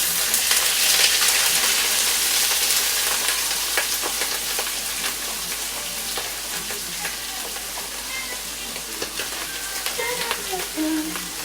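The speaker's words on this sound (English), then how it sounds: "So I'm going to saute this a little bit" Kale sautéing in a pan with mixed colored peppers, onions and mushrooms, a steady loud sizzle with scattered crackles and spatula scrapes running throughout, no talking.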